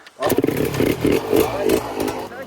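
A two-stroke 125 YZ dirt bike with a 144 kit bursts into a loud, rattling rev and holds a choppy, pulsing drone for a couple of seconds, close by.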